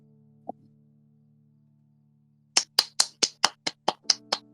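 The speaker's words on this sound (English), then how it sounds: "we can confirm it was clapping" Hand clapping during a podcast recording: a single faint tap, then about ten sharp, evenly spaced claps close to the microphone over a low electrical hum, with no voices.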